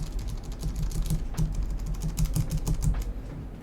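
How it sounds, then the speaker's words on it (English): Bare switches of a 60% mechanical keyboard with no keycaps being typed on, a quick close stream of clacky, slightly hollow keystrokes in an uneven rhythm, with no talking. "Type test without keycaps."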